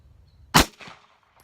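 A single sharp shot from a Walther CCP pistol firing Federal Premium ammunition cracks loudly and close, followed by a short ringing echo tail.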